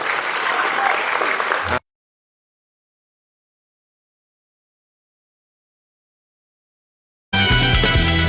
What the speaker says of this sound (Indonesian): beri tepukan paling gemuruh untuk dia